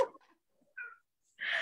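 A house cat carrying a sock lets out short muffled vocal calls, a brief chirp, a mid-length mew and then a longer drawn-out yowl, close and alone with quiet gaps between.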